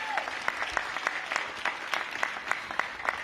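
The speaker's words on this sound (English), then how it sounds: "Give them a big round of applause." An audience applauds at an elementary school ribbon cutting, a dense, steady patter of many hands clapping at moderate distance with a few sharper claps standing out, and no voices over it.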